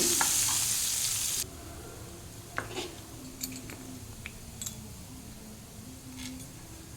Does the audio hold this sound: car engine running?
no